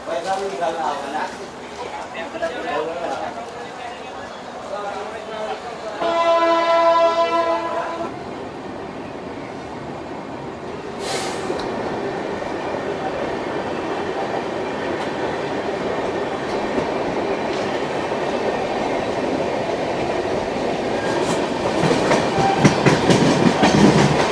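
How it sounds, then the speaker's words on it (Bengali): The 12378 Padatik Express pulls out of New Jalpaiguri station toward Sealdah. A loud two-second horn blast comes early, followed by a steadily building rumble and clatter of coaches on the rails while someone talks over it. "ট্রেনটা ছেড়ে দিল"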